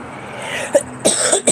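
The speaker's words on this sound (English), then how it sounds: "I'm coughing all over the place." A few short, harsh coughs close by, bunched into a quick burst with a throat-clearing rasp.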